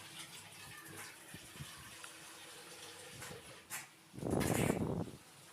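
Water gushes and splashes as farm-fresh fenugreek leaves are washed, a few faint clinks and soft sloshes building into a loud burst of pouring water near the end, with no speech.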